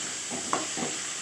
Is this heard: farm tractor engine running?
no